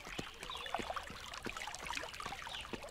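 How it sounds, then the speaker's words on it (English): A river flows steadily through a medieval RPG game world, a continuous soft rush and trickle of water at moderate level with no voices over it. "the sound of the river is working"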